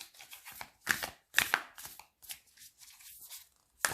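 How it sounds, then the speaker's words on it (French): A deck of tarot cards is shuffled close up in irregular bursts of soft riffling and slapping, some louder than others, separated by short pauses. The sound is quiet and there is no talk. "Allez, on va mélanger les cartes."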